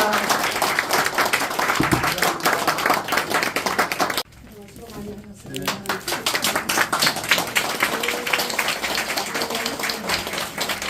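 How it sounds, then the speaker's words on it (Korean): Audience claps and applauds at a church inauguration service for a new association president, loud dense clapping that drops off briefly midway and then resumes, with some voices underneath. "수고해 주시면 큰 박수 부탁드립니다"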